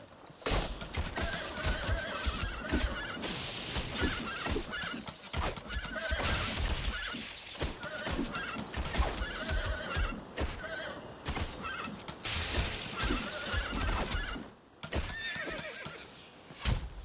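In The Bard's Tale video game, a horse whinnies in several loud shrill bursts while hooves clip-clop and thud underneath, a busy, close and continuous stretch of animal noise.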